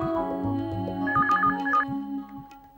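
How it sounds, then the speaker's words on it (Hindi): Telephone ringing in a Hindi TV drama household scene: a repeated electronic ring pattern plays clearly for several seconds over low background music, with no talk during the ringing. "जाओ और फोन उठाओ।"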